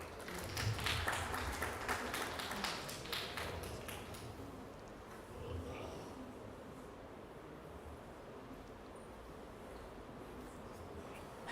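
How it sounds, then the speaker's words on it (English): Applause from the audience at a university event marking a design chapter launch: a few seconds of dense, lively clapping that thins out into a low room murmur. "A round of applause."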